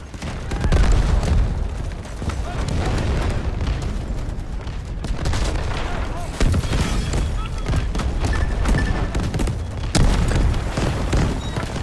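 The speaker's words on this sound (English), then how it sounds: "Incoming artillery, destroy the enemy." Continuous rumbling artillery explosions and scattered gunfire in Battlefield's Havoc mode, dense booms layered over a constant low roar with occasional sharper bursts, loud and close throughout.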